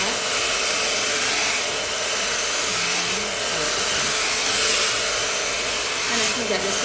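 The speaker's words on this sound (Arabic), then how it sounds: "أنا الحين قاعدة أستشوره مجرد استشوار عادي" A hair dryer blows steadily on damp, towel-dried hair, a loud continuous whooshing drone that holds without pause from start to finish.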